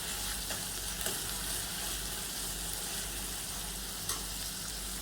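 Onion sizzles and fries steadily in a pan while being cooked toward golden brown, a continuous close crackling hiss with faint stirring, no voices.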